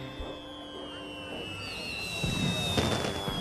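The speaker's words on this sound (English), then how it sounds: "Percy finished his last delivery of coal and arrived at the carnival as the fireworks began." Fireworks go off at a carnival in a children's animated show, with sharp bangs and crackles over a rising whistle and a faint droning tone beneath, the bursts growing denser and louder toward the end.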